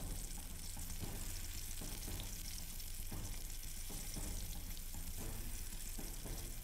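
Food fries in hot oil in Iron Chef America Supreme Cuisine, a Wii cooking game: a steady, dense sizzle and crackle, constant and fairly faint throughout, with no talk.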